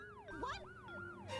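A police siren in an animated cartoon, its wailing tone sweeping up and down in quick repeated cycles, clear and alone over a faint background.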